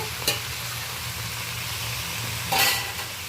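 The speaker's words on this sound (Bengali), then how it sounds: "আলু বেগুন ডাঁটা একই সাথে ভালো করে কষিয়ে নেব।" Potato, eggplant and drumstick stir-frying together in a pan, with a steady close sizzle and two brief scraping stirs of a utensil.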